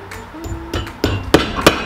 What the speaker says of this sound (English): And I'm hammering these in